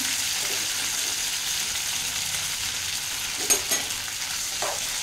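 Cumin seeds, green chillies and garlic frying in hot oil for tomato chutney, an even, close hissing sizzle throughout with a couple of brief sharper crackles near the end, no voices.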